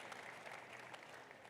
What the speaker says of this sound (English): Let's give the Rotary Foundation the biggest round of applause.